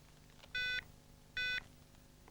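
Two short electronic keypad beeps from an old Ericsson GH198 mobile phone as a PIN is keyed in, each a clear, steady tone about a quarter second long, evenly spaced over a quiet background hum.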